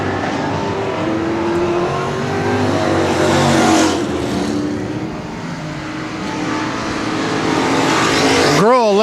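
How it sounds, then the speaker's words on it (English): NeSmith race cars in a heat race at Cotton Bowl Speedway roar continuously and loudly, engines droning and rising as they pass close, with a sharp whooshing pass at the end. "9, Atomic Girl, really the closest, if any, battle you want to call it on the track right now in your second NeSmith heat race."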